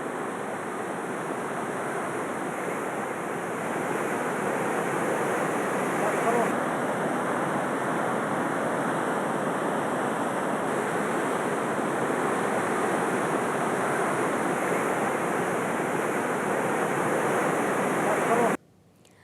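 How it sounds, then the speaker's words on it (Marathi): A mountain stream in the Popatkhed hills runs in full flow after heavy rain, a loud, steady, unbroken roar of rushing water that cuts off abruptly at the end. "पोपटखेडच्या भागातील पर्वतरांगांवरून वाहणारा हा ओढा अनेकांचं लक्ष वेधून घेतो"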